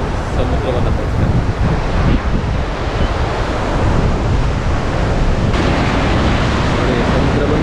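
Sea waves wash against rocks piled far out into the water along the shore, a loud, continuous roar of surf mixed with heavy wind buffeting the microphone.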